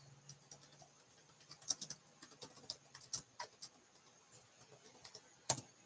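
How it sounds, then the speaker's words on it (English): Quiet, irregular typing on a computer keyboard: light key clicks patter unevenly, with a few sharper taps standing out. "I'll type it out in the chat"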